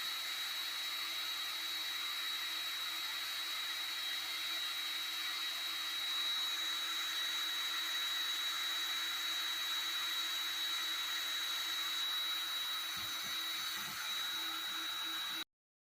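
A fast-spool ice fishing tip-up spins quickly as line runs off, making a faint, steady whirring hum with a thin high whine and no voices.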